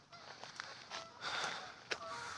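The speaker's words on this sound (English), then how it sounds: "More geese." Migrating geese honking as they fly overhead in rainy, stormy weather outdoors, a few faint, scattered calls at a moderate distance with soft background noise.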